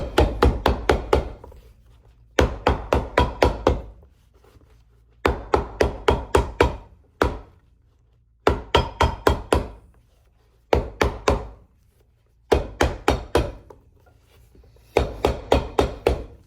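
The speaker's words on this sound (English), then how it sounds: "with the wet leather, when you hammer it, it sometimes makes hammer marks" Repeated bursts of close, loud hammer blows on wet leather of Gucci shoes, each volley a quick run of five to eight sharp knocks separated by short pauses.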